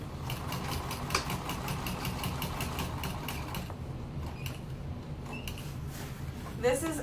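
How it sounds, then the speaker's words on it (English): A sewing machine stitching around the opening of a slouchy tote bag, its fast steady motor whir running continuously for several seconds before stopping, followed by quieter handling sounds. "And then we're going to sew around the opening."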